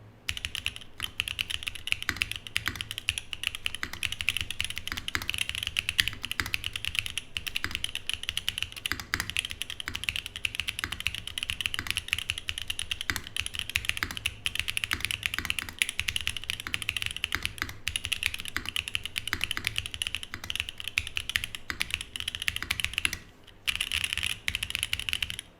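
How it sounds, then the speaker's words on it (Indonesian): Steady rapid typing on a Mode Sonnet mechanical keyboard, dense continuous clacking of keys at an even pace for the whole stretch, close and moderately loud with no speech. "Oke, ini tes typing random aja sebelum kita pasang si bump on"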